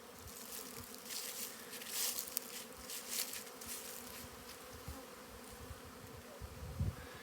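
Honeybees buzz in a steady drone around their hive on a warm, sunny winter day, wings whirring close by as individual bees pass and fade in and out.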